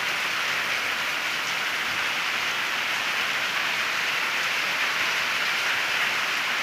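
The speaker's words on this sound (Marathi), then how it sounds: "किती पाऊस इलो बघा." Heavy June monsoon rain pours down steadily over paddy fields at sowing time, a loud, unbroken hiss of dense drops with no pauses and no voices.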